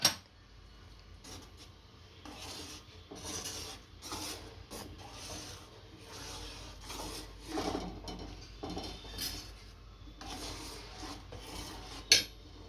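Seviyan kheer with milk is stirred in a pot, with a steady series of soft scraping, rubbing strokes of a spoon against the vessel, close by, ending in a sharper knock.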